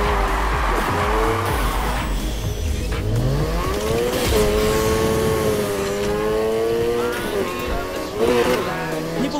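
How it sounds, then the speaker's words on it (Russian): A car in Need for Speed Heat drifts with loud, sustained tire squeals that rise and bend in pitch over a revving engine, close and continuous. "Жми на газ, чтобы дрифтовать дольше. Попробуй подольше держать дрифт."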